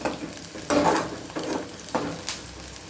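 Curry leaves stirred into hot oil for tempering, giving a soft sizzle beneath three distinct scraping stirs of a spoon against the pan.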